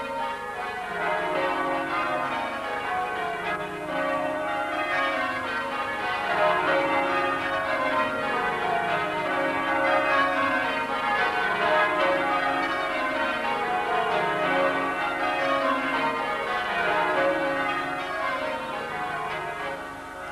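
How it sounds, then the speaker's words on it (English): The bells of St. Wulfram's Church in Grantham, Lincolnshire ring continuously in overlapping peals, a rich layered chiming that rolls on steadily, with no voices present. "The sound of bells from St."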